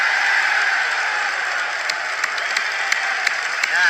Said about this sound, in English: Can we give a round of applause for Russia?